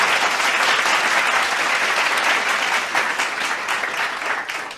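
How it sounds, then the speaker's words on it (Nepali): A large audience at a Nepali lok dohori golden night show applauds loudly and steadily for several seconds, a dense wash of clapping that tapers slightly toward the end. "एकपटक युके शाखालाई यहाँ सबैजनाले जोरदार तालीद्वारा सम्मान व्यक्त गरिदिनका लागि अनुरोध गर्न चाहन्छौँ"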